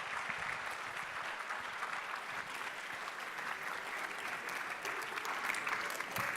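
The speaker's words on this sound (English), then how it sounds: "So please give a round of applause for our Chief Admin Officer," Steady applause from a leadership summit audience welcoming a chief admin officer, a dense wash of clapping hands that holds evenly throughout, moderately distant and without talk.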